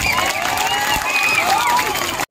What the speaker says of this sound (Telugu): ఒకసారి గట్టిగా మన మదన కోసం మనం చప్పట్లు కొట్టుకుందాం